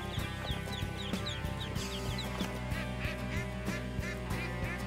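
Ducklings just released by a man quack and cheep in a busy, continuous chorus, many small voices overlapping close by with steady rhythmic calls and no talk.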